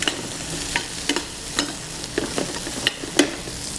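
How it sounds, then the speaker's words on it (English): Shrimp sautéing in a hot pan, a continuous close sizzle broken by repeated sharp clatters and swishes as the pan is tossed several times at irregular intervals, with no voices. "it's important right away to get this pan moving. Give it a couple of tosses"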